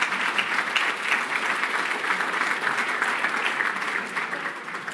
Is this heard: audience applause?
yes